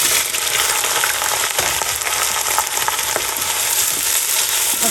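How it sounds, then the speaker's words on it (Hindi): Potatoes frying with onions in a pan make a loud, steady, close sizzle throughout, with occasional faint scrapes of stirring and no talking. "अब थोड़ी देर हम इनको फ्राई करेंगे प्याज के साथ।"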